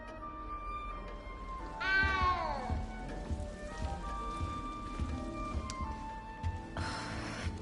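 A small cat in the video game Hogwarts Legacy gives a clear rising-falling meow, followed later by a second brief cry, over quiet game ambience and soft rain-like background.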